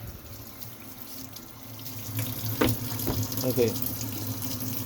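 Tap water runs steadily into a sink while pork belly is rinsed under it, with a continuous close splash and a few handling knocks partway through; a voice briefly speaks.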